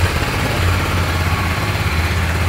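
A cold motorcycle engine, just started, idling with a low steady throbbing rumble up close, even and unbroken, with no talk over it.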